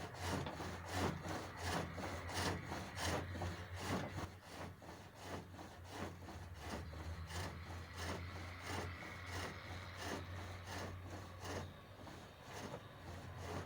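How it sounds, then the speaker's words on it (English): A tool smooths the surface of a hawthorn wood bowl turning on a pole lathe, making close, steady, rhythmic scraping strokes over a low background hum. "You just move along, nibbling gently at the surface of the wood, making it all nice and smooth."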